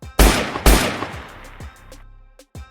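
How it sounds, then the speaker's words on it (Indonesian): Two loud, close gunshots in quick succession, each with a long ringing echo, followed by fainter clicks and small impacts as the reverberation dies away. "Tiba-tiba, suara tembakan bergema dari arah pintu gerbang"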